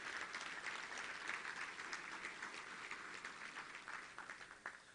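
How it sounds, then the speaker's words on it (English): A room full of people applauds steadily for sponsors at a Little Rock Touchdown Club luncheon meeting, a dense, sustained wash of clapping that runs unbroken throughout. "Let's give them a round of applause."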